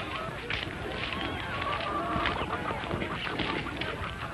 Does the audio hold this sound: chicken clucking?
yes